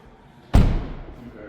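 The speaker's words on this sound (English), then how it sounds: "let's shut the door and we'll go to the other side next" A single solid door slam on a 2026 MINI JCW 3 Door in Sunny Side Yellow, a sharp close thud with a short low-end decay, preceded by a quiet moment.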